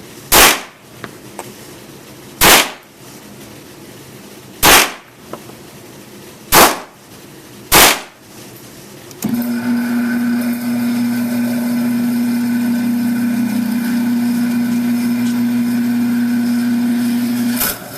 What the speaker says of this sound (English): That was 5 shots at 50 feet